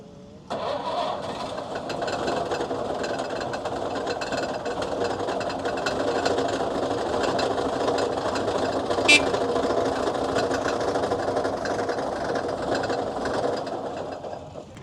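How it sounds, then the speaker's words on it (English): A Maybach HL42 TRKM engine in a restored Sd.Kfz. 250/7 halftrack cranks and catches, then settles into a steady, loud mechanical running with a rapid rattling rhythm, close by and continuous to the end. "Sdfkz 250 is equipped with a Maybach HL42 TRKM engine"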